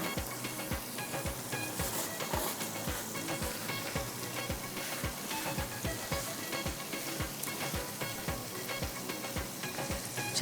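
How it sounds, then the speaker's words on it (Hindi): Minced meat sizzling steadily in a karahi as it is sautéed for qeema karahi, a loud continuous frying hiss with a regular rhythmic knock of stirring or scraping running throughout, close and unbroken, no talk. "इसको अभी भुनाई करेंगे अच्छे से।"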